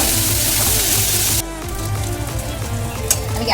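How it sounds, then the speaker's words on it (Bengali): Green chilli and ginger fry in hot oil on a low gas flame with a loud, close sizzle that drops abruptly to a softer crackle partway through, then bubbles steadily with occasional pops. "আমি গ্যাসটাকে একদম কমিয়ে দিয়ে এই লঙ্কা আর আদাটা ভেজে নিলাম"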